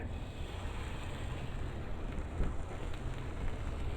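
Steady crackling sizzle of pre-seasoned steak in a hot pan on a camp stove, a dense, even hiss with faint pops, close and continuous throughout.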